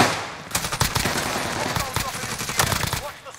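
Rapid automatic gunfire in the Warzone shooter on Rebirth Island, likely from a QBZ submachine gun: loud, close bursts of repeated shots with brief pauses between volleys.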